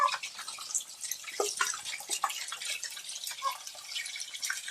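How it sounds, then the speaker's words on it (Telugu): Boiled chicken pieces drop into hot oil for a Guntur-style chicken pickle, a close, steady sizzle full of bright crackles and pops. "ఇప్పుడు నూనె బాగా హీట్ అయింది, దానిలోకి ఉడికించుకుని చికెన్ ముక్కలు వేసుకోవాలి."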